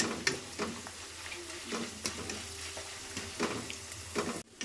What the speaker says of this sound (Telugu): ఇదిగోండి ఇలా ఆయిల్ వేసేసుకొని తొందరగా ఫ్రై అయిపోతాయి.